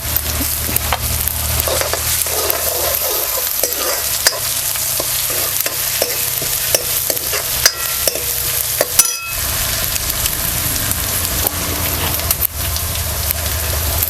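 Crushed garlic and ginger sautéing in a pan, cooked for idli sambar: a loud, continuous sizzle with steady stirring scrapes throughout, no voices.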